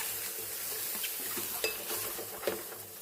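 Boiled eggs fry lightly in oil with salt, chilli powder and turmeric, making a soft, steady sizzle broken by a few clinks and scrapes of stirring, close and with no voices.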